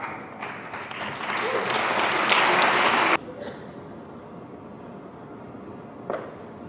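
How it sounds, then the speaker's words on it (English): An audience at a world pharmacy congress award ceremony breaks into warm applause, building steadily for about three seconds before cutting off, followed by quiet room tone and a brief burst of noise near the end. "thank you everyone for those warm applause"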